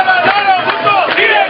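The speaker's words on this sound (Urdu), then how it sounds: "کارکن جیے بھٹو اور زندہ ہے بی بی زندہ ہے کے نعرے لگاتے رہے." Crowd of Pakistan Peoples Party workers chants political slogans in unison, a loud, sustained chorus of voices rising and falling over a short stretch.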